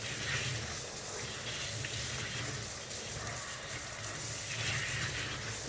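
Hot tap water runs steadily into a sink, a continuous broadband gush for rinsing the foam post-motor filter of a Hoover Sprint vacuum, close and even throughout with no talk.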